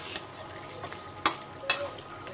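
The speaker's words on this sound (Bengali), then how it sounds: "এখন একটু নাড়াচাড়া দিব" A spoon stirs dried fish curry with garlic and green chili in a pan, giving soft scraping and sizzling under a low frying hiss, punctuated by two sharp metallic clinks against the pan near the end.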